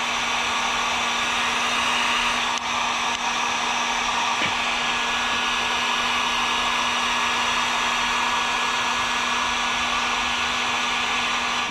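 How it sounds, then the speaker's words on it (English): Heat gun blowing steadily on heat shrink tubing over a tractor's positive battery cable, a continuous loud airy roar with a fixed hum, lasting the whole stretch with no talking. "So trying to get some heat shrink on it here and heat shrink that up."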